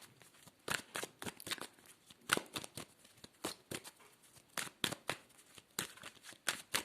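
Tarot cards shuffled and drawn by hand at close range, a rapid series of crisp riffles and flicks in irregular bursts, with quiet pauses between them.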